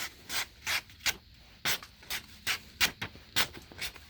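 A knife blade is drawn repeatedly across a Harbor Freight 1x30 belt sander, giving about a dozen evenly spaced raspy grinding strokes, close and alone with no talking.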